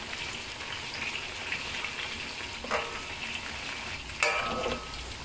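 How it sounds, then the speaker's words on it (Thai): Pork pieces frying in hot oil for crispy Thai-style fried pork, a steady soft sizzle with occasional scraping as the meat is stirred and spread, no talking. "ระหว่างที่ทอดอยู่เนี่ยแล้วก็กับเกลี่ยคนๆเขาด้วยนะคะเขาจะได้สุกเหลืองทั่วกัน"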